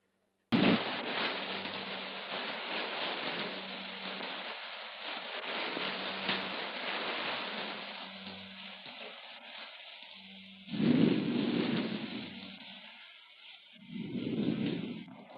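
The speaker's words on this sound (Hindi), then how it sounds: "आज ये बादल इतने जोर से क्यों गरज रहे?" Steady hiss of heavy rain in a thunderstorm from a 1951 Hindi film scene, with two deep rolling rumbles of thunder swelling near the end; no voices.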